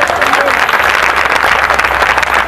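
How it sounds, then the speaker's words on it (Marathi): Loud, dense applause from a crowd honouring guests at a Buddhist vihara ceremony in Powai, Mumbai, a steady roar of clapping with voices mixed in. "त्यांच्यासाठी टाळ्या."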